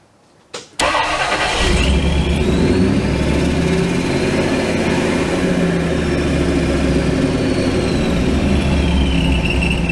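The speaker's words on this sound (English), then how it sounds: "Now when I start it, it's going to be revving kind of high." After a brief crank, a car engine with Holley Sniper EFI fuel injection catches and settles into a loud, high idle that holds steady for the rest of the clip.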